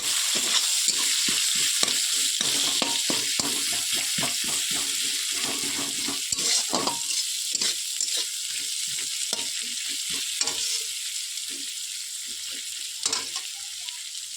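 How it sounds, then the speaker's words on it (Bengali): Onions and green chilies fry in hot oil in a pan, giving a steady close crackling sizzle broken by scraping stirs, with no one talking. "এবার দিয়ে দেবো পেঁয়াজ। দিয়ে হালকা করে একটু ভেজে নেব।"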